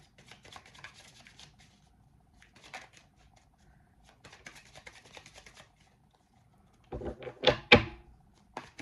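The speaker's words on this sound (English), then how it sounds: "I'm going to go ahead and shuffle these." Tarot cards are shuffled by hand in short bursts of soft riffling and sliding, separated by quiet pauses, with a louder flurry of snaps and taps near the end.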